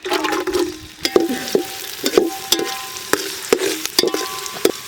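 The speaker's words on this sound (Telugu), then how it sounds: "మంచిగా నూనె పోసుకుందాం ఉల్లిగడ్డలు వేసుకుందాం" Onions frying in hot oil at a village cookout, a loud crackling sizzle broken by repeated sharp clacks of a spoon striking the pan in an uneven rhythm, very close, no talking.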